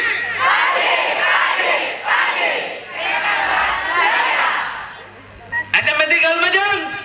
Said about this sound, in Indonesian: Kalau bisa teriakannya itu bisa meruntuhkan genteng-genteng yang sebelah kanan kalian.